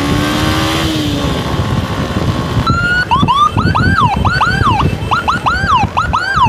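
An ambulance from the Masjid Baka mosque runs its siren while being escorted with a patient who has a severe head injury. Road and engine rumble come first, then a loud, close wailing siren cycles steadily through the second half.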